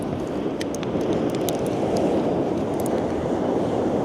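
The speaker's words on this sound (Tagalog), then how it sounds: "Sobrang mahangin." Strong wind roars steadily against the microphone, a constant low buffeting rumble with no voices.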